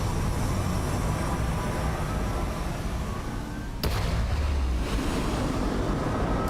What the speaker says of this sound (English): I like how they have the rocket noise